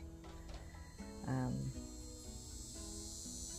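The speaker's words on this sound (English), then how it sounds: "Cicada." A faint, continuous insect buzz drones in the background under brief, soft human vocalizing.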